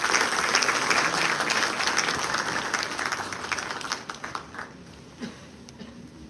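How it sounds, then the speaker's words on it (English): Loud crowd applause at a law and AI congress at Delhi High Court holds steady, then gradually thins out and fades to a few scattered claps near the end. "Let us welcome him with a huge round of applause."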